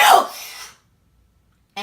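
A reader acts out a big, forceful sneeze, a loud explosive burst that quickly trails off into silence, with a voice imitating the sound before talk resumes at the very end.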